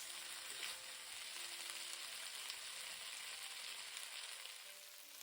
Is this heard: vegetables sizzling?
yes